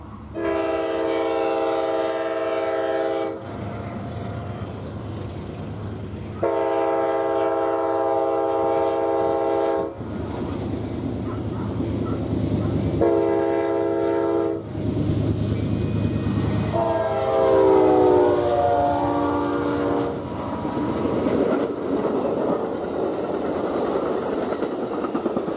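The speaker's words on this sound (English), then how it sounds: "Amtrak 3 came into view, disturbing the silence of the small New Mexico town." Amtrak 3, a passenger train, passes through the small New Mexico town of Rowe, sounding several long, loud horn blasts in a sequence over the steady rumble of rail cars rolling past close by.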